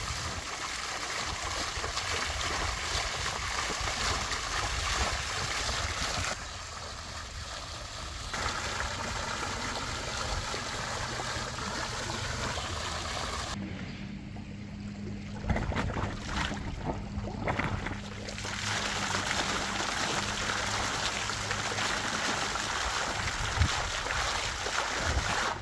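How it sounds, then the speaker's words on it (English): Water from a DIY backyard pond geyser gushes in a loud continuous rush, dropping briefly in force and surging again, with splashing and flowing water throughout and no talk. "now we have a functional geyser in the pond"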